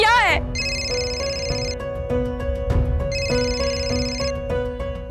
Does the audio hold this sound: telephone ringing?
yes